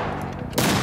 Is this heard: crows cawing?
no